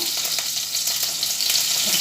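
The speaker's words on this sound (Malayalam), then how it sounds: "ഉലുവാപ്പൊടിയൊക്കെ ഇട്ട് കൊടുത്ത് ഞാൻ ആദ്യം പൊടി ഐറ്റംസൊക്കെ എല്ലാം വറുത്തിട്ടാണ് വെക്കാറുള്ളത്" Fenugreek powder and spices frying in coconut oil in a home kitchen, a steady bright sizzle with faint stirring, continuous and close, with no talk.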